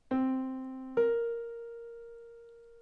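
Two pitched notes forming a minor seventh interval, played one after the other: a lower tone that rings and fades, then a higher tone that sustains and slowly decays, clean and alone.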